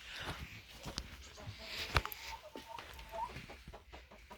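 Backyard hens settling in for the evening give soft, scattered clucks close by, with faint rustling and steps between the calls and no talk.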